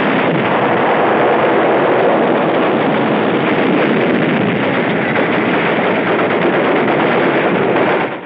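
Continuous dense gunfire and battle noise from World War II combat on the beach at Tarawa, a loud, unbroken roar of shooting with no pauses or talk, heard through old newsreel sound.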